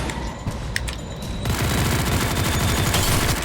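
Video game combat sounds start with scattered sharp shots, then break into a loud, dense barrage of rapid gunfire and grenade explosions that keeps going without a break.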